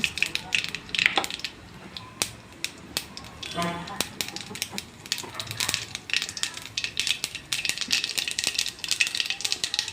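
Mustard seeds spluttering in hot oil, a continuous close crackle of sharp pops and sputters, irregular and busy throughout, with a brief hissing burst in the middle.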